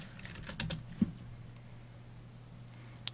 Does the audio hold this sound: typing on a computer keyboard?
yes